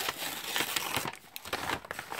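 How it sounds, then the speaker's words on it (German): Paper packaging is torn and crumpled by hand close up, with quick rustling crinkles and short ripping bursts, then a brief pause before more crinkling. "ich muss es leider ein bisschen kaputt machen, das Papier"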